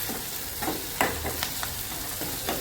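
Spice ingredients are mixed and roasted in a pan, a soft steady sizzle under a few quick spatula scrapes and knocks, close and brief, with no one speaking.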